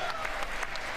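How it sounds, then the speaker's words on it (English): A standing ovation in Congress, a dense sustained roar of many hands clapping from a large crowd, loud and continuous throughout. "This could be a very long standing ovation."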